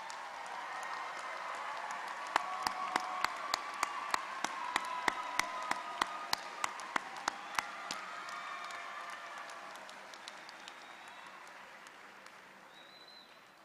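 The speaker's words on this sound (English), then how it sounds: "Will all of our honor students please rise and receive our applause?" A graduation crowd at San Jose State's engineering college ceremony applauds honor students, broad sustained clapping from a large audience that swells, holds, and slowly fades, with a few louder nearby claps standing out.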